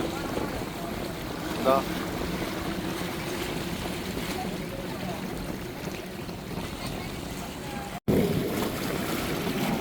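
Racing boats with 25 horsepower engines in a boat race on open water, a steady engine drone and water rush running continuously with wind, a brief cut near the end before the noise resumes.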